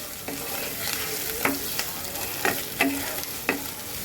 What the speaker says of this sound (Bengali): পেঁয়াজটাকে আমি এখন খুব সুন্দর করে ভাজবো